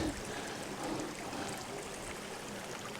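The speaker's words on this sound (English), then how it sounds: "This river that you see, Malham Beck" Malham Beck flows in a steady, even rush of water, a continuous close wash with no breaks, heard on a dreary day near Malham Cove.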